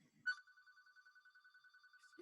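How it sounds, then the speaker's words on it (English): A telephone rings at a senior's home in a retirement community, a steady electronic trill running for about two seconds, fairly faint, with a brief bump of noise before it and a short sound at the end. "I thought that I heard your phone."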